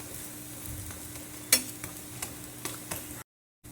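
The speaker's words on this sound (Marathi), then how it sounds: "एक बाजू भाजलेली आहे दुसरी बाजू अशीच भाजून घ्यायची" Spring onion paratha fries in oil on a pan, a soft continuous sizzle with a few sharp ticks and clicks of handling, close and fairly quiet, without speech, ending abruptly.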